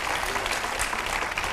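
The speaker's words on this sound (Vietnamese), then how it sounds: "mời quý vị cho một tràng pháo tay đón chào cặp vợ chồng son đầu tiên" A studio audience gives a steady round of applause to welcome a newlywed couple, a dense, even wash of many hands clapping throughout.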